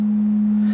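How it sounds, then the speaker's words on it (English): A clean 210 hertz pure sine tone plays as one steady, loud, unwavering hum for under a second, alone with no voices. "I'm going to feed a 210 hertz tone to your right ear."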